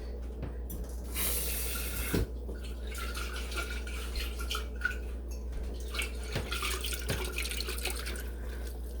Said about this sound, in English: There is a little bit left in the jar though, so I'm going to add some water and get that out.